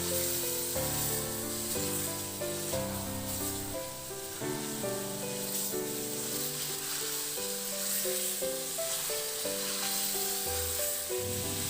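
Marinated beef sizzles loudly and steadily in a hot pan for Filipino beef mechado, with occasional stirring scrapes over a continuous frying hiss.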